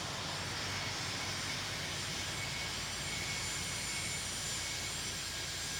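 A jet airliner lands on a parallel runway in the Tower! Simulator 3 air traffic control game, heard as a steady, even engine roar and rushing air that holds unbroken throughout with no talk.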